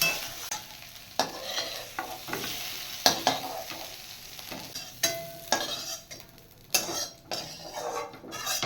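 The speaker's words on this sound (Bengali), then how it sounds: "আলু ফ্রাই হয়ে গেছে, এবার আমি আলুগুলো নামিয়ে দেব" Potatoes frying in oil in a pan, being stirred with a metal utensil: a continuous soft sizzle broken by repeated sharp scrapes and clinks against the pan, close and irregular.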